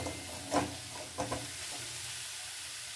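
Broccoli curry simmers over a low flame as a spoon stirs it, giving two brief soft scrapes against a faint, steady background hiss.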